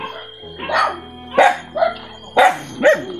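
Several dogs bark in a Philippine neighborhood, four or five sharp, close barks spaced unevenly over a faint background hum, with a hint of voices.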